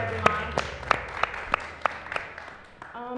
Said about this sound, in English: Another round of applause for this wonderful guest of ours